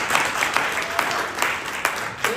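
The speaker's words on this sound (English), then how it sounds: "Give them a big round of applause." Audience clapping at a conference session, a sparse scatter of distinct individual claps spread across a brief burst rather than a dense roar.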